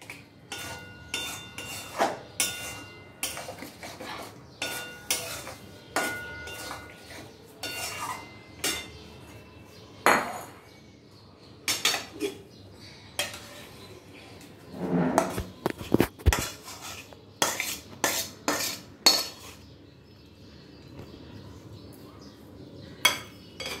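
Spoon stirring a vegetarian chal potol curry of pointed gourd and Gobindobhog rice in a pan, intermittent clinks and scrapes of metal on metal with short pauses between strokes, fairly close.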